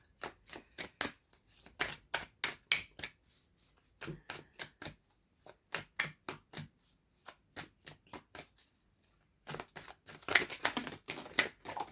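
Oracle cards from a Sacred Destiny deck being shuffled by hand, a long run of quick, crisp riffling bursts in steady rhythm with short pauses, close and clear, ending in a denser flurry of card slaps.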